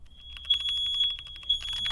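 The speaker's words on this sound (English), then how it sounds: "My roommates just set the fire alarm off." A fire alarm sounds indoors after cooking sets it off, a sharp high steady electronic tone pulsing in rapid repeated beeps, loud and continuous with no talking.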